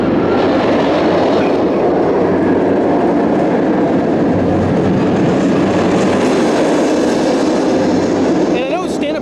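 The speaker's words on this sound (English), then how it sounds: "this big green and yellow roller coaster, Riddler's Revenge, the park's stand-up roller coaster. Really, really loud stand-up roller coaster." The Riddler's Revenge stand-up roller coaster at Six Flags Magic Mountain thunders past as a loud, continuous rushing roar of wheels on track, with a brief squeal near the end.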